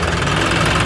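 The engine of a modified, power-boosted John Deere 5210 farm tractor with a turbo runs at a loud, steady idle. A close, even rumble with a knocking throb fills the moment without any speech.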